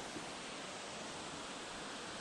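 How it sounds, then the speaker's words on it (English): Steady broadband roar of Webster Falls, a 22 metre curtain waterfall in Hamilton, heard as a constant, fairly faint wash of falling water with no voices. "It is a 22 meter high waterfall."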